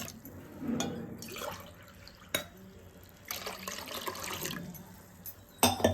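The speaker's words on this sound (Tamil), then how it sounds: "இப்போ இதோட 2 டம்ளர் தண்ணி ஆட் பண்ணிக்கலாம்." Water for homemade pani puri splashes and trickles into a container in a few bursts, with short pauses between pours and a brief clatter near the end.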